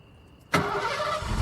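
A car engine cranks and catches with a sudden loud start, then settles into a steady close running rumble, during a driving lesson in a garage.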